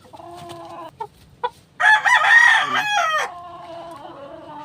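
A rooster crows loudly for about a second and a half, with soft clucks and short calls from chickens before and after.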